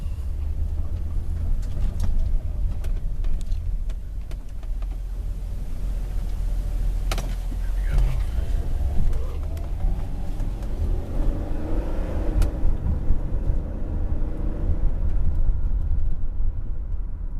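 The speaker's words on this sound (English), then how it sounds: "I'll go ahead and drive it around a little bit" A 2002 Infiniti I35's engine hums steadily with road noise and rumble from inside the cabin while driving, no talking.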